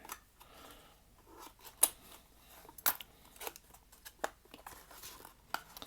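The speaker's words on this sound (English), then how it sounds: "I've lost my opening scissors. There they are." Repeated sharp scissor snips at an uneven pace, close by, cutting open diecast toy car packaging, with faint rustling and crinkling of packaging between cuts.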